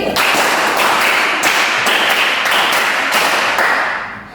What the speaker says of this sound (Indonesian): Tepuk 5 kali 2 kali